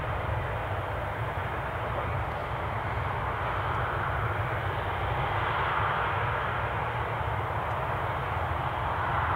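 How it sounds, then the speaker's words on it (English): An ATR 72 turboprop taxis at Newcastle Airport, a steady, broad engine roar holding at an even loudness throughout with a slight swell toward the middle, heard at moderate distance with no talk. "just going to rotate the camera so we can pick up the taxiing ATR 72."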